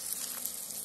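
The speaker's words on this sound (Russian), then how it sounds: "Отправляем лучок. В лучок сразу добавим куркумы, чайную ложку." Chopped onion with a teaspoon of turmeric sizzling in oil inside a kazan over a campfire, a faint, steady hiss of frying with soft crackles, heard alone and briefly.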